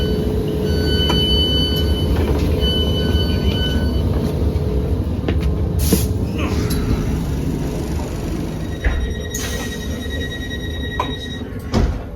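An ex-Thameslink Class 319 electric train runs steadily at Harrow and Wealdstone, a loud continuous rumble and rattle with sustained motor whine and short sharp clanks and squeals over about twelve seconds, no voices.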